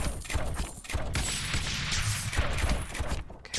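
A mortar tower fires in the tower-defense video game Rogue Tower, a dense, continuous barrage of overlapping booms and crashes with sharper bursts throughout, loud and unbroken with no talking.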